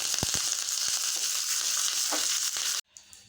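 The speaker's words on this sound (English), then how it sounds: "Seeds are spluttering." Seeds splutter in hot oil for a coconut chutney tempering, a dense, close crackling sizzle with a few sharper pops that cuts off abruptly near the end.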